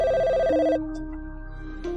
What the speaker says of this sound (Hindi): ये तो गुड़िया का ही फोन आ गया।